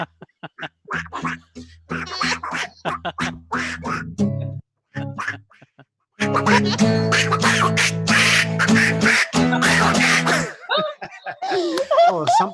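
A comedian playfully imitates a duck, voicing a long run of loud, close nasal quacks in bursts, at times with a sung melody mixed in and laughter-like snorts around them.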